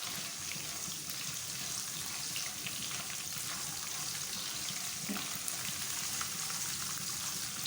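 Nuts frying in a little ghee give a steady, close, continuous sizzle with light bubbling and occasional soft stirring, no voices over it.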